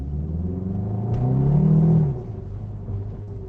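A car engine idles with a low rumble, then revs up in one smooth rise and settles back to idle, close by.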